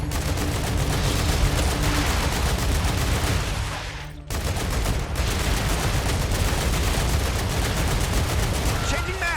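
Sustained rapid gunfire in the sci-fi video game StarRupture, loud and dense bursts rattling almost nonstop with one brief pause, while a player talks over it.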